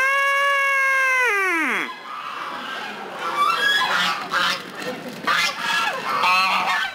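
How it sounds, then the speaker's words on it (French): A flock of geese honks and cackles through the streets of a Christmas market in Plombières-les-Bains, a long sliding call followed by overlapping nearby honks and gabbling. "Des oies ont en effet envahi les rues du marché de Noël."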